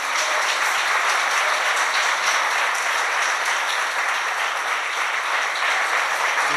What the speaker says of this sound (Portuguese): Vamos receber então o nosso pastor neste momento, aplaudindo o Senhor Jesus